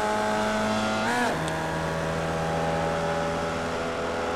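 A Formula Vee race car engine in iRacing at Okayama International, droning steadily and close, dipping briefly as the driver shifts or lifts, then pulling on again at an even pitch.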